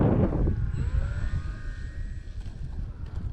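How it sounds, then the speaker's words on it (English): Gusty wind buffets the microphone in low, uneven rumbling bursts, with a faint airborne RC plane engine tone drifting behind it. "this wind is just gusting"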